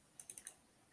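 A few quick keystrokes on a computer keyboard, four light clicks close together in a quiet room.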